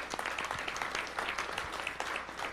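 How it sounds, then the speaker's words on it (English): An audience at a talk claps in a round of applause, a fairly quiet, busy patter of many hands lasting a couple of seconds. "This man deserves a round of applause."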